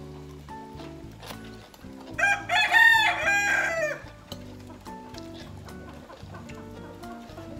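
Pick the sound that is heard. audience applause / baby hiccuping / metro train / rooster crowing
rooster crowing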